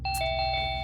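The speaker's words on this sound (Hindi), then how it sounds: "घंटी जलाएगा क्या?" A doorbell chimes at a house door in a Hindi crime drama scene: a quick run of bright, ringing ding tones, loud and close, repeated several times in under a second with no voices.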